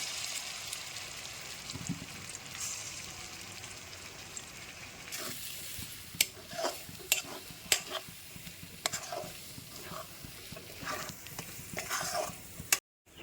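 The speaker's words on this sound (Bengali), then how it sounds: "যতক্ষণ না লাউয়ের জলটা শুকিয়ে আসে ততক্ষণ অবধি আমাদের এটা গ্যাসে নাড়াচাড়া করতে হবে" Bottle gourd mixture stirred in hot oil in a pan on a gas stove: a soft, even sizzle early on, then louder, irregular spatula scrapes and clacks over continued frying, with no voices.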